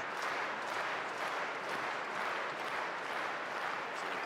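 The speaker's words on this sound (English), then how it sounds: "So the crowd clapping on the comeback for the player down, CHEN Meng." The crowd at a women's singles badminton semifinal of the 2017 German Open applauds steadily, a dense, even clapping that fills the arena at moderate volume.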